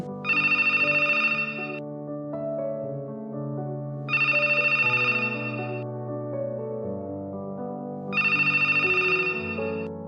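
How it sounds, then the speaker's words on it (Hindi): A mobile phone rings with a repeating ringtone: three bright bursts of melody arrive about four seconds apart, loud and clear over a steady musical backing, with no talk. "तभी मेरा फोन बजा।"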